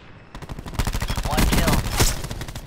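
Rapid aircraft strafing gunfire in a video game, a loud close burst of dense automatic shots that builds into a heavy roar with impacts and one sharp crack near the end.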